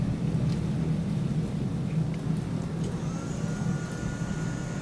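Steady, even rainfall hisses and patters across the open sea in the naval game War on the Sea, a continuous moderate wash with a low rumbling undertone and no voices.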